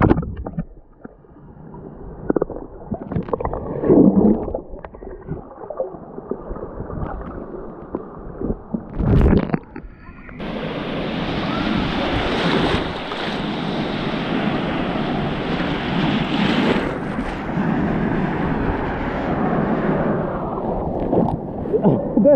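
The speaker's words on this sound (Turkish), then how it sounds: "Hamza, çok büyük dalgalar geliyor" Big sea waves slam against a small boat on rough water, with heavy rushing and crashing surges, strong wind buffeting the microphone, and occasional voices heard through the turbulent noise.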